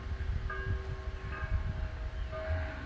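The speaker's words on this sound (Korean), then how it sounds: "여기 들어오니까 종소리를 듣네. 저 아마 봉쇄순영원에서 치는 종소리일 거야." A monastery church bell rings at a distance, its faint sustained tones drifting over a steady low outdoor rumble, with no talking.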